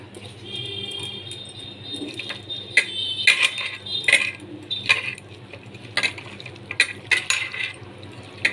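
Mutton is worked by hand with crushed ginger and garlic in a bowl, giving irregular wet squelches, soft taps and clinks of the vessel, close and moderately loud, with no talking.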